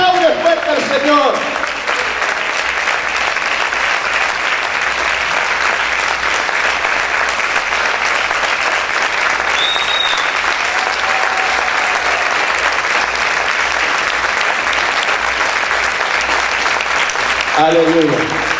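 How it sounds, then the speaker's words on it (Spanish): A church congregation applauds loudly and steadily for about sixteen seconds, a dense continuous wash of clapping, with voices briefly audible at the start and end. "¡Aplaude fuerte al Señor!"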